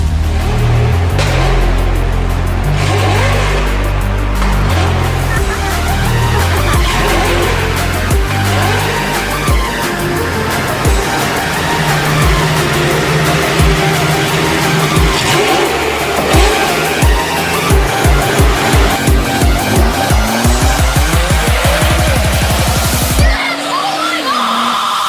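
Race cars at a sports car enthusiasts' event roar past loudly, with revving engines, squealing tires and rapid pulsing bursts as they accelerate through the run.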